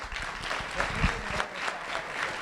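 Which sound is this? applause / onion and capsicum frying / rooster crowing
applause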